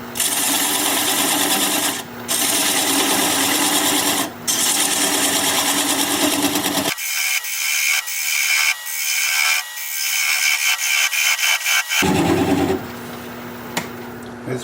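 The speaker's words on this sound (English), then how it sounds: "I'm going to use a 3/8 inch bowl gouge and commence to removing that tenon" A wood lathe turning a sycamore bowl while a 3/8 inch bowl gouge cuts away the tenon, producing a loud, continuous rasping scrape with brief breaks and one stretch where the lower rumble drops out, leaving a thinner hiss.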